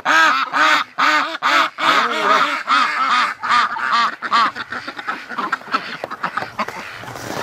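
A group of farm ducks near a barn quacks loudly and close up in a rapid, repeated series of nasal calls that thin into scattered, overlapping quacks toward the end.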